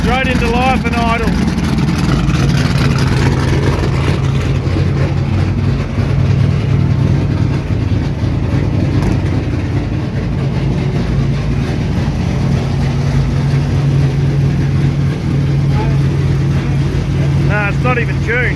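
A lightly tuned car engine fires straight up and settles into a steady, loud, rumbling idle that lasts throughout, with voices talking over it.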